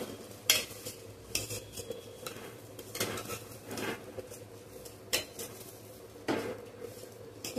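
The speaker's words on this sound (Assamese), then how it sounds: "অলপমান ভাজি লৈছোঁ" Cashews and raisins fry in a pan for pulao. A soft continuous sizzle runs beneath repeated scraping and clinking of a spatula against the metal pan, with a few sharper knocks spaced irregularly throughout.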